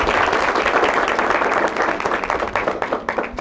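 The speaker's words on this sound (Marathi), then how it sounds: "खूप टाळ्या वाजताय तिथे" An audience at a quiz-style talk show claps loudly and densely, the applause sustained then thinning into scattered claps toward the end.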